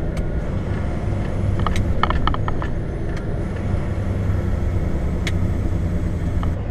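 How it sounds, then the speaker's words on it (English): A heavy-haul truck's exhaust brake rumbles loud and close in a steady, unbroken drone for several seconds, with no talking. "You want to hear my exhaust brake?"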